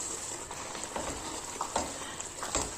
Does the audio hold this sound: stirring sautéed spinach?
yes